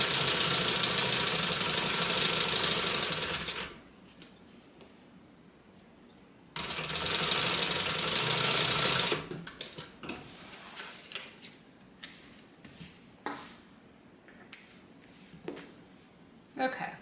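A sewing machine stitches bag pieces in two steady, loud runs of several seconds each. Between and after the runs come quieter handling clicks and taps, and a person talks alongside.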